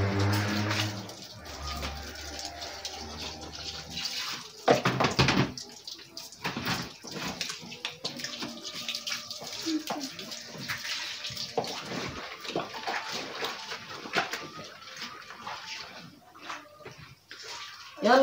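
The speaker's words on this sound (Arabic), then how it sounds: "دابا غادي نشلل وحده ثانيه وحده بوحده غادي نشللهم مزيان" Blankets rinsed by hand in a tub of water, with continuous splashing, sloshing and dripping close by for about eighteen seconds and a few sharper splashes along the way.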